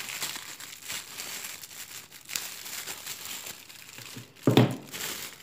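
A small plastic bag holding Pleione orchid pseudobulbs is cut open, giving a soft ongoing crinkle with one sharp, louder crackle near the end, close and quiet, with no talk.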